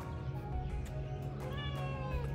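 A cat meows over a steady low hum, the call rising in a few tonal strands toward the end; the sound is moderately close and continuous rather than a series of short mews.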